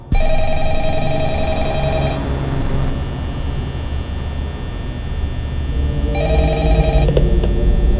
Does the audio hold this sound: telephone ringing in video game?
yes